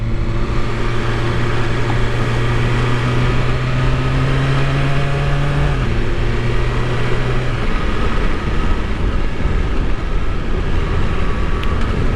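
A 2021 BMW S1000RR sportbike ridden at an easy pace on a first outing, its engine droning steadily and loudly throughout with a sustained tone that holds, then shifts down partway as the revs change, with wind rush underneath.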